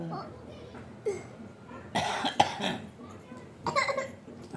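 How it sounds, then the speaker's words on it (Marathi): A young girl coughs at home, a few close, sharp coughing bursts spaced apart, with children's voices and chatter around them. "खोकला झाला काय दीदीला"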